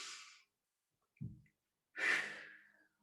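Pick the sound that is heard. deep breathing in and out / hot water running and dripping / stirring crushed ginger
deep breathing in and out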